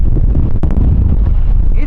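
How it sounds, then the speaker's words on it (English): Wind blows over a yacht at anchor, a heavy low rumbling buffet against the microphone that is steady and loud throughout, with a brief sharper knock partway through. "It's a windy day."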